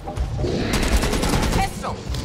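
Shotgun blasts in the zombie shooter Back 4 Blood, loud and close amid a dense wash of ongoing gunfire, with a voice calling out over the shooting.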